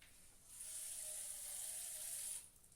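Water is poured into a pan of cut jackfruit seeds, a steady close splashing stream that starts abruptly, runs for about two seconds and stops, with quiet room background before and after.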